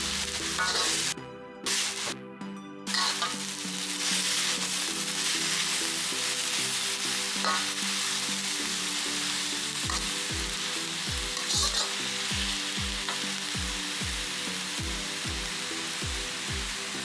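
White and green vegetables are stir-fried in a frying pan with a steady, loud sizzle. A spatula scrapes and taps in a quick rhythm toward the end.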